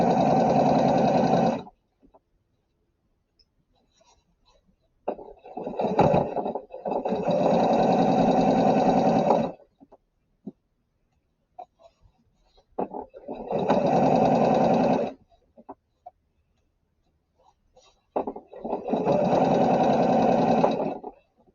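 A sewing machine stitches fabric for a New Look 6764 garment, running in four loud, steady bursts of rapid mechanical whirring separated by quiet pauses.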